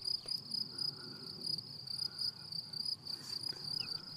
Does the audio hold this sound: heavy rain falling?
no